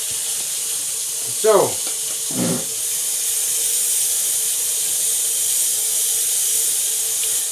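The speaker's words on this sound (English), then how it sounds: "Why am I putting hot water on?" Hot water runs from a kitchen tap into a sink in a steady, even hiss that continues throughout, with a brief spoken word and a couple of short squeaky sounds near the start.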